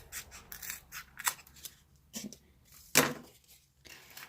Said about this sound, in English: So I'm gonna use the scissors. I'm just gonna cut a little bit off.